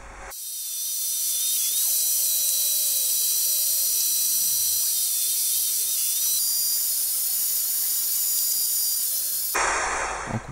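A saw blade cuts wooden bed panels, the headboard and footboard for a wooden cradle, with a loud, sustained high-pitched whine and hiss that runs unbroken for several seconds before stopping abruptly.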